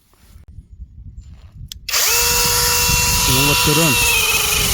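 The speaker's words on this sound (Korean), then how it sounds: "이렇게 전기톱으로 하니까 금방 잘리나요" Electric chainsaw from Narion cutting through apple tree branches during garden pruning, starting abruptly after quiet and running loud and steady, with a person speaking briefly at the start.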